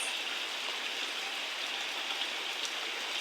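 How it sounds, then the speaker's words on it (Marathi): Steady, dense rainfall pours down without a break, a loud continuous wash of drops close by. "इतका जोरदार पाऊस आहे"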